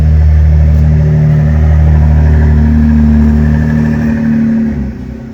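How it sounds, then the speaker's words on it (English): A neighbor's car accelerates past on a residential street, its engine note rising into a loud, close revving drone that holds steady before easing away near the end. "This is my neighbor again, his other car."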